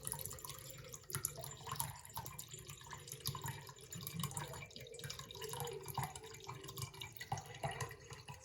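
Water from a tap runs steadily into a container, probably a rinsed bucket or basin, with a continuous splashing, gurgling flow that stays moderately loud for several seconds and has no voices over it.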